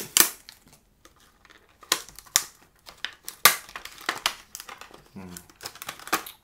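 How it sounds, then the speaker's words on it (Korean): Hard plastic pen packaging cracks and crinkles as it is pried open by hand during a pen-spinning pen unboxing, giving close, sharp bursts of snapping and crumpling with pauses between them, while someone talks over it. "아이고, 막 부서지네요, 플라스틱이."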